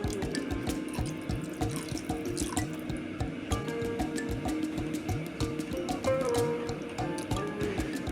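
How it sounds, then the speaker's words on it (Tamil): Cornflour mixed in water pours in a steady gurgling stream into a pan of egg soup, continuous and fairly close, with no talking. "இதையும் எடுத்து நம்ம கடாயில் ஊற்றிக்கலாம்."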